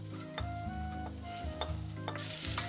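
Chopped garlic and ginger sizzle steadily in hot oil in a pan, a continuous frying hiss with occasional clinks and stirring scrapes close by.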